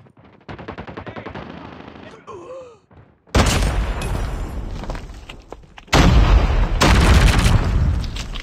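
In Call of Duty Mobile, automatic gunfire rattles before a loud frag grenade blast erupts, followed by continuous heavy booming fire that surges again later.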